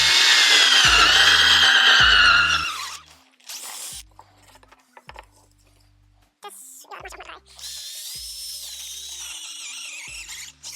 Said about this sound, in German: Also probiere ich mal im Kreis ein paar Löcher hinein zu bohren